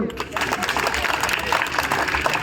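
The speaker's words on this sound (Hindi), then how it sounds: "ताली तो बजाओ" Crowd applause at a village welcome rally for a development tour in Padda, Manasa constituency, a dense steady patter of many hands mixed with voices, continuous and fairly loud throughout.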